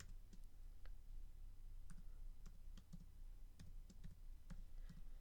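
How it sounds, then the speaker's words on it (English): Quick, light clicks of a computer keyboard as a password is typed, a steady irregular run of soft keystrokes against a constant low hum, close and fairly quiet, with no voice. "So I typed in my password, but it doesn't actually show it to you."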